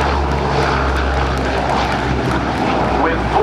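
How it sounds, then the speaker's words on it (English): A Lockheed C-130 Hercules with four Allison turboprop engines takes off at an airshow at NAS Oceana, its loud, steady propeller drone filling the air continuously, with an announcer's voice over a public address system layered on top. "Here comes the C-130 representing your United States Air Force."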